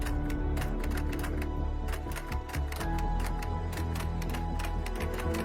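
Clicking keys and a dense clatter from a LEGO brick-built typewriter in a teaser, a rapid, busy stream of small plastic clicks over a steady musical bed, close and fairly loud throughout.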